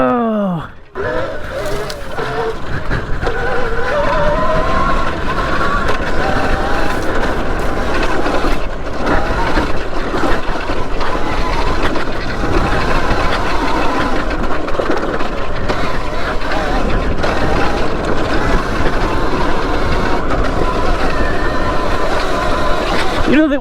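A 2024 Alien Rides Moto X electric dirt bike with clutch and gears ridden through dirt, a loud continuous rumbling drone with rattling and wind noise, up close throughout.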